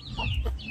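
A desi hen gives a couple of short, close clucks in a quick burst, clear and alone with no talking.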